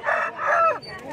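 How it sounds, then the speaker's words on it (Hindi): A rooster crows once in a loud, close, drawn-out call that rises and falls at a farm animal fair, with no talking over it. "ये मुर्गा है।"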